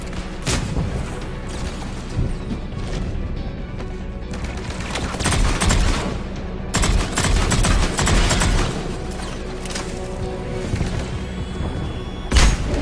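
Dense video game gunfire from Mass Effect 3 fills the scene, with rapid shots, heavy booms and thuds mixed into a constant loud battle din and no clear pauses.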